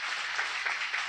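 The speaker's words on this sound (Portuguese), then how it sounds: "Aplauda bem forte ao Senhor." Church congregation applauding the Lord at the close of a Portuguese-language prayer service, a steady, fairly soft wash of clapping with no talk over it.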